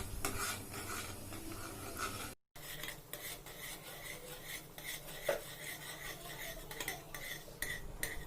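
A utensil repeatedly scrapes and rasps against a pot as milk, flavoured with ground cardamom, is stirred while it thickens for homemade pera. The stirring is close and continuous with a brief dropout, and there is no talking.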